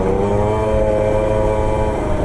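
A small engine idles steadily after its idle screw has been richened, a close, loud, even putter with a constant low rumble and no revving.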